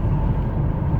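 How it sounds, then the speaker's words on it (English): Mercedes C180 Kompressor driving along a dual carriageway, heard from inside as a steady, loud low rumble of engine and road noise with no talking. "there we are, a couple of miles down the dual carriageway"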